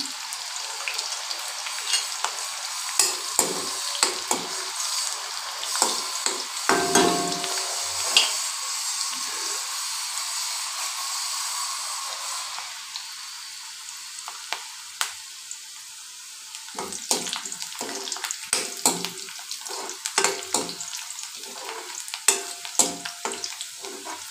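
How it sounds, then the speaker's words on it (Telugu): Onion, cumin and garlic sizzle in hot oil as a tempering, a loud, steady bright hiss broken by frequent stirring scrapes and clicks, close by throughout. "ఉల్లిపాయ, జీలకర్ర, వెల్లుల్లి ఇప్పుడైతే వేసుకుంటున్నాను"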